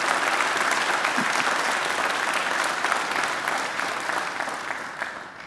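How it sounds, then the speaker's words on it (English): A large graduation ceremony audience applauds in a hall, a loud, full roll of clapping that holds steady before tapering off toward the end. "I think he deserves another great round of applause"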